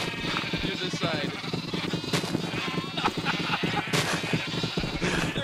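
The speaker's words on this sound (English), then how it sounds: "Sheep!" Many sheep bleat in the Minecraft video game, a crowded overlapping chorus of short bleats under excited talking voices.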